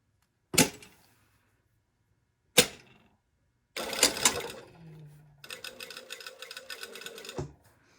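A home sewing machine basting a dress seam at a quarter-inch allowance: two sharp clicks, then a burst of fast stitching, a pause, and another steady mechanical run of stitches that stops abruptly, close and clear with no talk.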